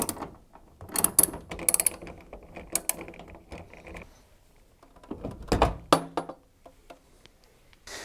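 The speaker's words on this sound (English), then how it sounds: "you need to undo the two bolts that hold it in place using your 8mm socket set" An 8mm socket ratchet clicks in short bursts while undoing the door bolts on a Zanussi washer dryer, with quick pawl ratchets, pauses and a couple of louder knocks, close and fairly quiet.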